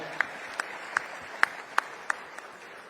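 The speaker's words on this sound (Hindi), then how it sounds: "जोरदार ताली बजा आपने" Applause at the Rewa Regional Industry Conclave of a Global Investor Summit, with a soft crowd wash of clapping and a few sharp, close individual claps spaced roughly evenly across the stretch.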